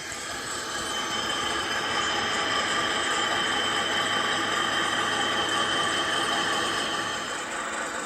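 A Cavalex Class 56 model locomotive hauls a heavy train steadily along its track with a continuous whirring, rumbling hiss, moderately loud and unbroken throughout.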